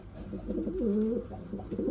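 Pigeons cooing close by in a rhythmic, throaty series of low warbling calls, with no talk over them.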